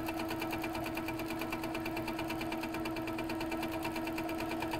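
An HQ Capri quilting machine stitches steadily after its thread tension is loosened, giving a fast, even mechanical hum and rapid rhythmic clatter, close and continuous with no talk.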